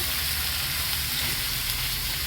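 Food sizzles and fries steadily in a hot pan, a dense, continuous crackle that stays close and even from start to finish with no voices.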